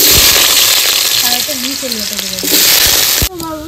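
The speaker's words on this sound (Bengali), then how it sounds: "আলুগুলো ভেজে নেবো।" Loud, close sizzling of potatoes frying in hot mustard oil, with a voice speaking briefly over it before the noise suddenly drops.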